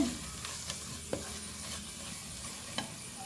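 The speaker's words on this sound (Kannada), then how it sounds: "ಇನ್ನು ಈಗ ಇದಕ್ಕೆ ನಾವು ತೊಳೆದಿಟ್ಕೊಂಡಂಥ ಹೀರೆಕಾಯಿಯನ್ನು ಹಾಕ್ಕೊಳ್ಳಿಕ್ಕಿದ್ದೇವೆ" Washed ridge gourd frying in cooked masala in a pan, a steady soft sizzle with a few spoon scrapes and taps, close and fairly quiet.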